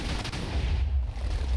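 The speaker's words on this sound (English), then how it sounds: "So you can see the two systems of dispensers firing off." Dispensers firing off in a video game make a dense, continuous stream of rapid, booming shots with a heavy low rumble. It stays loud and steady for the whole short stretch.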